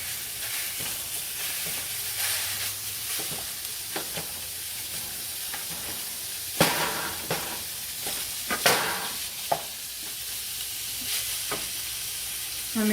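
Ground beef browns in a pan over medium-high heat, a steady sizzle broken by scraping and stirring strokes of a utensil, with a few louder clanks as the meat is turned.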